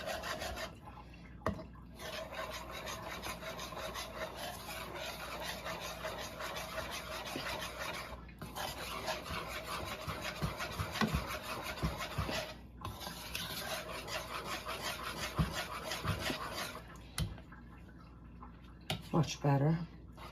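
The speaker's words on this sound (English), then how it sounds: "let's whisk it up a little before we add." A whisk scraping and rubbing through thick beer batter in a bowl for Greek fried cod bites, a steady rapid swishing rhythm held close for most of the clip with short pauses, while a person talks over it.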